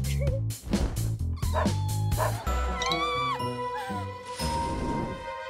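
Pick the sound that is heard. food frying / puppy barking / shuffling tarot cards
puppy barking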